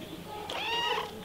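A single short, close cat meow rises and falls over about half a second against a steady indoor background hum, in a household with several cats.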